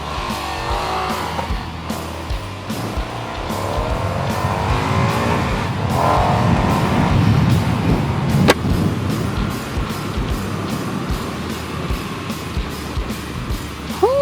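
An Indian FTR Carbon motorcycle engine runs steadily while riding, a loud continuous drone with shifting pitch and a brief sharp spike near the end.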